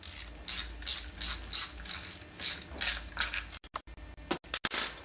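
A hand ratchet loosening a 14 mm bolt on the transmission of a 2007-era Nissan 240SX S13/S14 during a five-speed swap, with steady rhythmic clicking strokes followed by a few sharp, faster clicks, close and alone.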